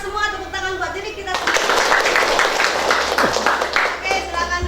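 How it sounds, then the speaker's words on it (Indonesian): A group of students in a classroom claps their hands together in a sustained burst of applause, loud and close, following talk from a teacher before the clapping starts. "tepuk tangan buat diri kita"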